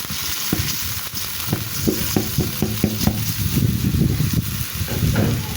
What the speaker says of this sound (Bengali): এখন চালটাকে আমি একটু ভেজে নিচ্ছি